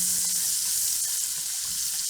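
Carrots drop into hot oil in a pot for a curry chicken soup and fry with a loud, steady crackling sizzle, close up and alone.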